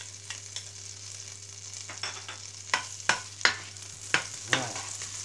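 Garlic is tossed into melted fat in a pan and stirred, giving a soft steady sizzle beneath a series of sharp scraping clacks that grow louder toward the end, over a constant low hum.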